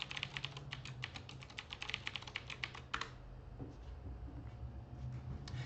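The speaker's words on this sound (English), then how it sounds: "You're going to put in your computer password." Rapid keyboard typing of a computer password, a dense run of close, crisp key clicks for about three seconds that then stops, leaving a low steady room hum.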